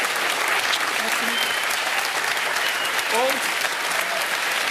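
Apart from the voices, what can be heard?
audience applause for the cooks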